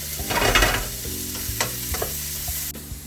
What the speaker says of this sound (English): So when you see that the aubergines are fried, you see the color, and they are becoming soft